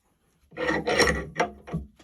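A wooden workpiece is clamped into a bench vise for dovetail cutting, giving a few close scraping, rubbing wood-and-metal sounds in short bursts, with no talk.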